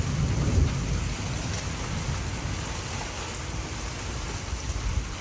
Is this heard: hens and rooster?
no